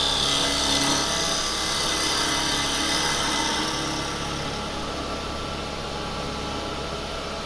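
A woodturning gouge cuts into a spinning workpiece on a lathe, giving a steady, loud broadband shearing hiss over a low motor hum that eases slightly in the second half.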